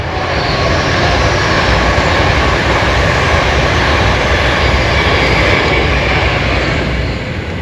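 A long train rumbles past on a busy track as a loud, steady, broadband roar that holds evenly throughout with no break.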